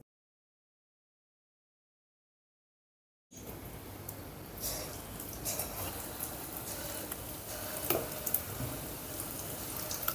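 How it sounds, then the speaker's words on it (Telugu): Mysore bonda batter dropped into hot oil sizzles and crackles steadily after a few seconds of silence, a dense close frying hiss with small pops. "ఇప్పుడు బోండాలు వేసుకుందాం."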